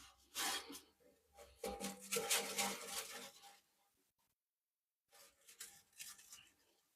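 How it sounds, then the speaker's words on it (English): Close, faint scraping and rubbing around pipes comes in two bursts of rough strokes with a short silent pause between them. "I'm just scraping the sides and the top around the pipes, stuff like that. And I just sort of rub it down like that."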